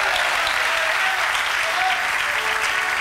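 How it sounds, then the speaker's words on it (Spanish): Congregation applauding in a church service, a dense steady wash of clapping that fills the whole moment, loud and continuous with no speech over it. "¿Cuántos dan un aplauso para Él?"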